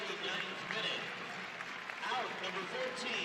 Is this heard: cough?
no